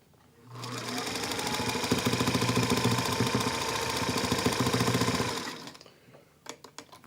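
A sewing machine stitches in a fast, steady mechanical run for about five seconds, close and fairly loud, then stops, followed by a few scattered light clicks and taps.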